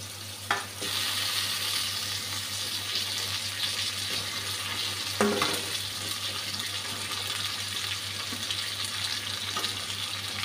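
Katla fish pieces fry in a spice masala in a pan, giving a steady close sizzle and hiss throughout, with a couple of brief clatters and no talking.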